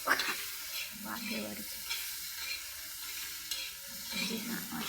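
Okra sizzles steadily on a hot tava griddle, with occasional stirring scrapes and a voice talking faintly under the frying.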